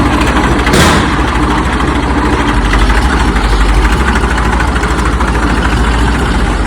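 A tractor's heavy diesel engine idles steadily at close range, a constant low rumbling throb with a brief clatter near the start.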